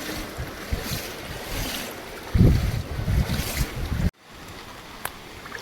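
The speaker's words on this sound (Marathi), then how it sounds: "पाण्याचा प्रवाह बघा किती जोरात आहे" Strong floodwater rushes through a street past flooded houses in Palghar, a steady loud roar and splash mixed with wind buffeting the microphone, swelling for a moment before a sudden cut.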